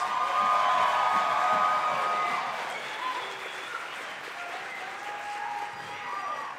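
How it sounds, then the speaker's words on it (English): Steady applause from an audience at an honor band concert fills the room, loudest at the start and easing slightly as it carries on. "Let's give them a big round of applause, please."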